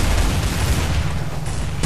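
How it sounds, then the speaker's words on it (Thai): A grenade explosion booms in the game Counter-Strike Source on the de_dust2 map, a loud, dense roar of blast and rumble that fills the short moment with no speech. "โอ้ระเบิด"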